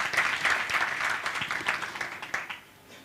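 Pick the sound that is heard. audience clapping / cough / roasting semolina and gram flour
audience clapping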